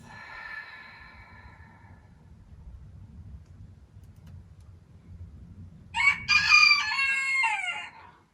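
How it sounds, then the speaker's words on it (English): A rooster crows nearby, a loud drawn-out cock-a-doodle-doo near the end, after a faint earlier call and quiet background. "I think my rooster knows every time I come to the end of practice."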